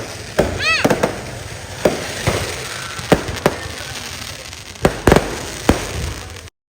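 Firecrackers bursting outdoors at dusk: a string of sharp bangs at irregular intervals, some close and loud, others fainter, with a brief whistling streak early on and a quick double crack near the end.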